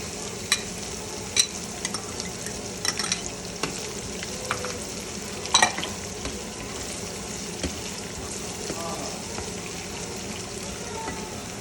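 Onions frying in a pan for pav bhaji, a steady crackling sizzle with sharp clinks and scrapes as a spoon stirs them at close range, no one speaking.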